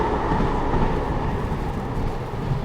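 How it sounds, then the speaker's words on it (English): A train passes nearby outdoors, a steady broad rumble with rail noise that holds at an even, fairly loud level throughout without clear peaks. "Oh, train going by."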